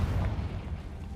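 A Confringo blasting spell explodes in the video game Hogwarts Legacy as a brief, low, rumbling boom that lingers for about a second, heard alone.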